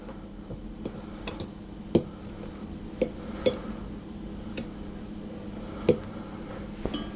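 Lemon zest being mixed into almond cookie ingredients in a bowl, a spoon giving scattered light clinks and taps against the bowl at uneven intervals over a low steady background hum.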